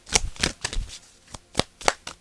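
Tarot cards being shuffled by hand during a reading, a series of short papery riffles and soft slaps in irregular bursts, close and fairly quiet.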